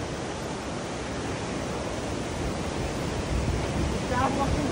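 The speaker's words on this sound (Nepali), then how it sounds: "सही देखियो कि बबाल सेती नदी है यो चाहिँ" Seti river water rushing in a broad, continuous roar, close and steady with a faint higher sound near the end.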